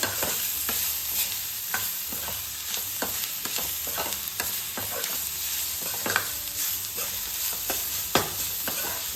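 Brinjal and jaggery stir-fried in a pan for ennegayi palya, with steady sizzling and repeated sharp scrapes and knocks of a spatula against the pan, close and continuous throughout.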